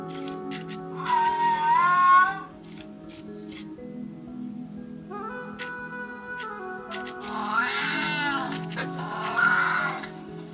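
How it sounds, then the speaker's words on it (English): An electronic toy sabertooth cat (Fingerlings Untamed, WowWee) gives two bursts of synthetic meowing separated by whirring mechanical noise, close and fairly loud. "I love the meow."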